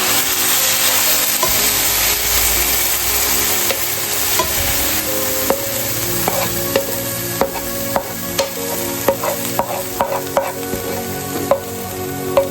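Meat and rice filling, prepared as a stuffing for zucchini, being stirred in a frying pan, with steady sizzling and a series of sharp utensil scrapes and taps growing more frequent toward the end.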